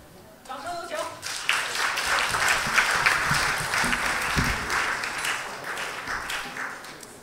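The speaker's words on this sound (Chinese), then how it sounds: "谢谢大家稀稀拉拉的掌声" Audience applause at a Chinese crosstalk (xiangsheng) show, rising after a second of quiet into a steady, fairly thin round of clapping that holds for several seconds, with voices heard beneath it.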